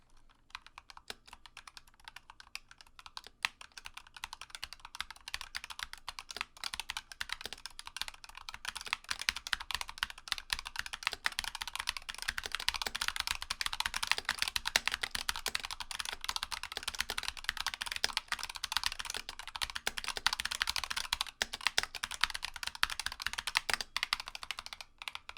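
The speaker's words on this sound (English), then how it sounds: "here is a quick sound test of the new red Razer Opto-mechanical linear switch" A Razer Huntsman TE keyboard with red opto-mechanical linear switches and PBT keycaps is typed on steadily and quickly, dense close-up clacks forming a continuous patter that builds slightly in intensity, no voices.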